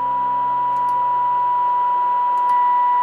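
A President Johnson CB radio opens its squelch, letting a steady hiss of receiver noise through alongside a constant pure test tone, with faint short clicks at two points.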